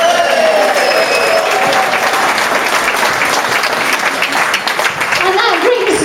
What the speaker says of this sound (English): And I think we should have a cheer for Barbara.